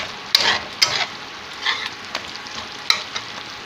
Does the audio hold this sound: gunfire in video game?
no